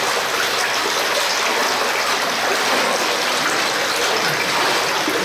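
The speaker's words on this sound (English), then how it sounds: "We're hearing a lot of water on the bottom" Water running far below at the bottom of a dam, a continuous rushing, stream-like wash with even loudness and no pauses or voices.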